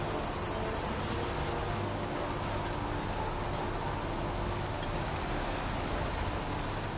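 Heavy rain falls in the video game Heavy Rain as a dense, constant hiss of downpour that fills the whole scene at a steady, loud level without pauses.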